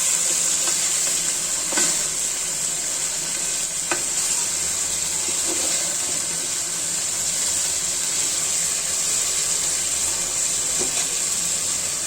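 A large silver carp simmers in a pan of mustard paste and spices over a high flame, giving a steady close sizzle and bubbling with occasional clinks of a utensil.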